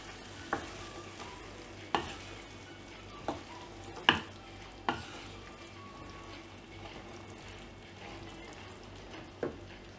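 Occasional scraping clinks of a spoon stirring a thick chickpea curry in a pan, with a soft low sizzle underneath.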